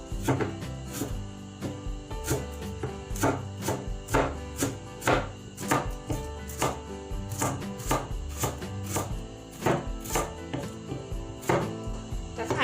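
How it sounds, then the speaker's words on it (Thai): A knife slices lemongrass diagonally on a cutting board, producing a rhythmic series of crisp, sharp chops at irregular intervals, close and clear, with no talk. "หั่นแฉลบแฉลบหั่นเฉียงเฉียงอะค่ะ ชิ้นมันจะได้ใหญ่หน่อย"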